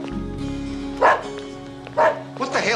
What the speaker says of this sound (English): What the hell is this dog doing here?